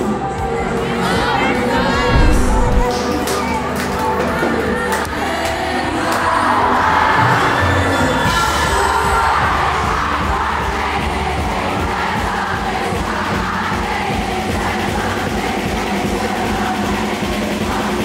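A big concert crowd at a pop tour opening show cheers, shouts and sings along together, a loud, dense and continuous roar of many voices that stays steady from start to end.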